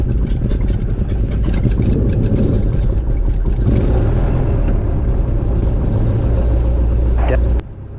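A Cessna's propeller engine runs loud and close with a steady, heavy drone for most of the clip, then cuts to a lower level near the end. Faint voices can be heard under the engine.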